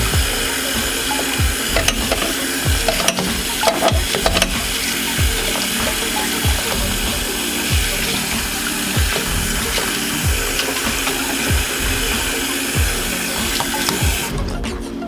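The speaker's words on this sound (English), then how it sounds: "fill it up with as hot of water as you can" Hot water pours steadily from a tap into a sink for hand-washing dishes, a continuous rushing splash with occasional small clinks and knocks close by.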